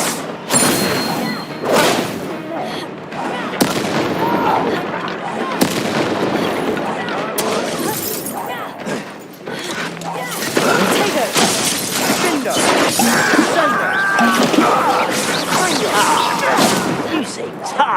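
Fire spells burst repeatedly during combat in the Hogwarts Legacy video game, loud crackling blasts and shattering impacts packed densely together, with voices talking and shouting over the fight.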